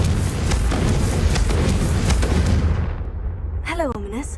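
Confringo spell blasts in Hogwarts Legacy go off as dense, loud, rumbling explosions for a few seconds, then die away into a short tonal chime.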